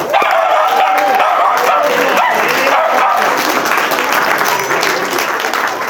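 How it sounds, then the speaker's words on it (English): Wedding guests clap throughout a ceremony, steady dense applause filling the room at close range, with a few faint voices and what may be a small dog yipping underneath. "Let's have lots of clapping"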